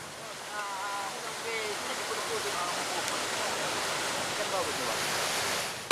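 A strong river current after floods and landslides rushes in a continuous broad roar, steady and fairly loud throughout, with faint voices underneath.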